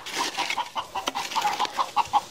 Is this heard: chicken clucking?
yes